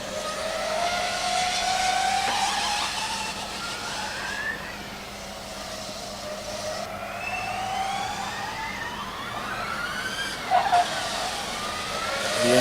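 A Formula Student race car running an autocross course, its engine note rising and falling through the gears and corners. It is heard from a distance, steady and moderately loud, with no talk.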